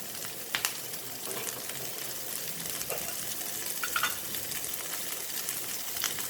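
Chopped chillies and onions fry with a pinch of salt in a pan, giving a steady, moderate sizzle with occasional soft stirring scrapes, close up and without talk.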